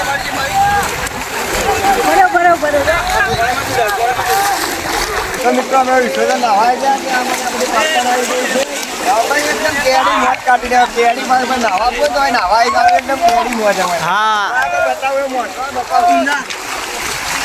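A boat pushes through water on a village outing, with continuous splashing and sloshing close by while several people talk loudly over it throughout.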